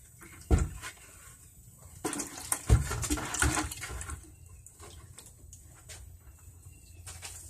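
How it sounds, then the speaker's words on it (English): Water splashes and runs from a tap while a freshly poured cast mold for a one-pound catapult projectile is rinsed, with a couple of knocks and bursts of spray close by, then a quieter trickle. "I'm gonna rinse this off a little bit"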